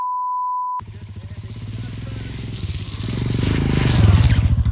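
Royal Enfield Himalayan motorcycle on stock tires riding through snow, engine pulsing steadily and building louder toward the end, after a short steady electronic beep at the start.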